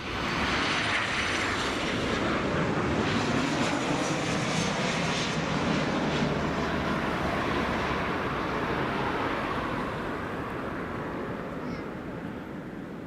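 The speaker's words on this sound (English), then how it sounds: "next up is Ryanair. Just coming in now." A Ryanair airliner in Malta Air livery comes in to land at Leeds Bradford Airport, its engines a loud, steady broadband roar that holds close and strong throughout, easing only slightly toward the end.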